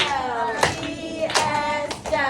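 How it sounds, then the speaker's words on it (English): Children in a classroom clap and snap in unison during a spelling drill, three sharp rhythmic bursts spaced evenly apart, fairly close and loud, with no talking over them. "Let's clap and snap 3 times."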